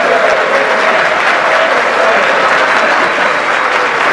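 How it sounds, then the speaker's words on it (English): An audience of senior Republicans at a gathering in Philadelphia gives steady, loud sustained applause after a speech by the Prime Minister, a dense wash of clapping from a large crowd. "Prime Minister Theresa May taking applause at a gathering of senior Republicans in Philadelphia"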